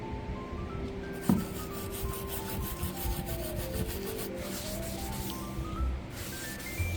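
A nylon brush scrubs paint off a Broyhill Saga wooden dresser, making a continuous close rasping rub with steady back-and-forth strokes and one sharper knock, heard alone.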